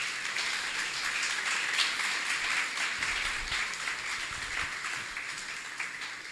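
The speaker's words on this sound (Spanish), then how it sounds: "Démosle un aplauso al Señor" Broad, steady applause from a church congregation, sustained throughout at moderate volume with no talking over it.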